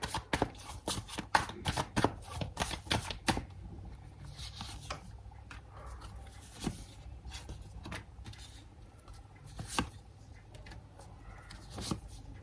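Tarot cards being shuffled and drawn, a quick run of sharp papery flicks and slaps at first, then scattered soft taps and card handling, close and quiet.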